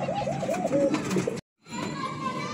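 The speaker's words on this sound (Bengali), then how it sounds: "এখন যে পেয়ারটি দেখাচ্ছে এটা হচ্ছে গোল্লা কবুতর রানিং পেয়ার" A Golla pigeon pair gives a run of soft, repeated coos close by, the cooing rising and falling in a short series before a brief gap and low background noise.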